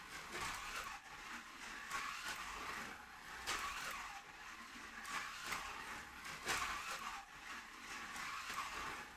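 Small 1/32 scale slot cars, including a top-heavy 1950s-style model, whir around a track with a faint, steady electric hiss and periodic rising passes, quiet and distant throughout.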